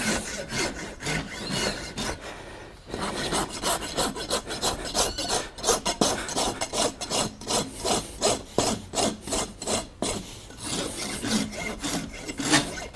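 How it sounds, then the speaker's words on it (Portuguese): A farrier's rasp files down a horse's hoof wall to straighten it, a steady run of close, loud rasping strokes in a quick back-and-forth rhythm with a short pause near the start. "a grosa para poder deixar a parede do casco mais reta"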